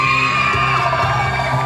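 A crowd at a Barbee road show at the Interspar store in Hódmezővásárhely whoops, yells and cheers loudly and continuously for the whole short stretch, a dense roar of many voices.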